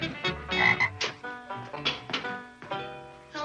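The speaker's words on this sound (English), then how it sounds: "All right, Froggy. Hop around to the cement pond and have yourself another swim." Frog croaking repeatedly from a pet frog near a cement swimming pool, a rapid series of loud, close, irregular croaks and throaty calls filling the clip.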